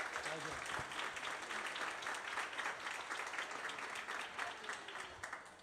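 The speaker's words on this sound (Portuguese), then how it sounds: "Salva de palmas aí, gente" A crowd applauds continuously at a football gathering, thick even clapping with faint voices mixed underneath, easing slightly near the end.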